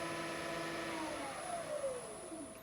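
Wood lathe spinning up to speed, a steady whirring motor hum with tones sliding as the speed changes, continuous and moderately quiet with no voices.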